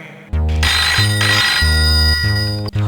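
Phone ringing with a loud electronic ringtone, a repeating melodic pattern of short tonal phrases close to the listener, with no voices over it.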